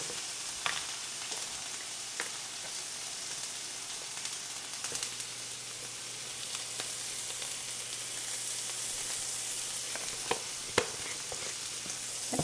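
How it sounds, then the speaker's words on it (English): An omelet sizzles in a frying pan with a quiet, even hiss, while occasional sharp clicks and small scrapes break through now and then; a low hum sits underneath and no one talks. "nicely sizzling"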